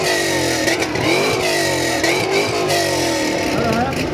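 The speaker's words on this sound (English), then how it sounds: "Let me hear what you got there, Hogan." A car's engine revs repeatedly with a loud, rumbling exhaust at a loudest-exhaust competition, close and continuous, with rising and falling throttle blips across the whole stretch.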